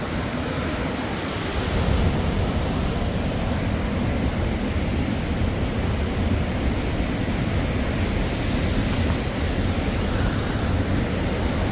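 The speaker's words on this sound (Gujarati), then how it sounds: "હેઠા પાણીનો ધોધ પીડ્યો જાય." Water from the overflowing Vartu 2 dam pours down in a loud, continuous roar, a steady broadband rush of falling water close by, with no voices.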